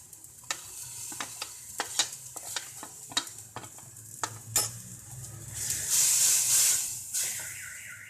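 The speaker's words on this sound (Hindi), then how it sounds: "और इसे थोड़ी देर के लिए भूनेंगे, यहाँ तक कि ऑयल ऊपर आ जाए" Cumin, garlic, turmeric and red chili frying in oil for moong masoor dal tadka, with a steady sizzle broken by repeated sharp stirring clicks and a louder hiss swelling near the end, no voices.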